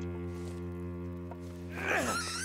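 A rabbit in The Long Dark survival game cries out as it dies after being struck by a stone, a shrill, strained squeal rising over a steady droning ambient bed near the end.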